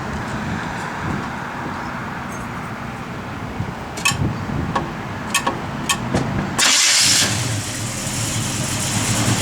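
A 1969 Chevrolet Chevelle SS with an overdrive selector cranks and fires up, its loud engine catching and then settling into a steady, rumbling idle close by.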